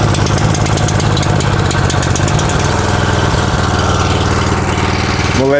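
A small-engine lawn edger idles while warming up, with a loud, steady, throbbing putter close by that holds evenly throughout, ending on a brief rattling clunk.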